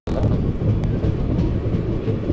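Passenger train on the Shirdi to Chennai line rolling steadily, a loud continuous rumble of wheels and carriage noise close by from a window seat, with no speech.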